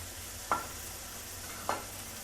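A metal spatula presses and cuts through boiled potatoes in a pan, giving two sharp scraping taps about a second apart over a soft steady sizzle.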